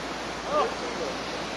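Rushing water of a flooded mountain creek and waterfall roars as a steady broadband wash, loud and continuous, with a brief voice-like sound briefly rising above it.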